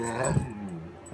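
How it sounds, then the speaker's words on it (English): A dog gives a short whining yip-like vocalization, brief and close, lasting about a second with a slight rise in the middle. "You're barking. Don't bark, talk."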